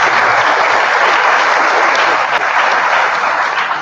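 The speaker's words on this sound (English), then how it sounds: "I want you to free your hands and we give a big round of applause" A seminar audience applauds a health systems and policy research presentation, steady dense clapping filling the room without a break from start to finish.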